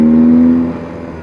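A 1978 BMW R80/7 motorcycle engine pulls up loud and close with a steady, slightly rising drone. It then eases off and fades over the last half second.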